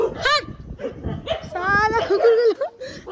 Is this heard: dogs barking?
yes